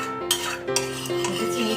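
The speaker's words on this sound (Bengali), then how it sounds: "এবার এই চিনিটাকে ভালো করে তেলের সাথে মিশিয়ে নিতে হবে" Spoon or spatula scraping through sugar and hot oil in a metal pan, several distinct stirring strokes with clinks over a soft sizzle, close and clear.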